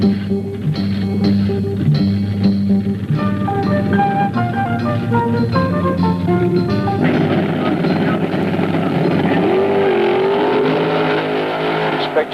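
Drag racing cars run at Beeline Dragway during the 1974 AHRA Winternationals, a loud, sustained engine roar with strong stepped tones that shift pitch as the cars rev, continuous for the whole stretch.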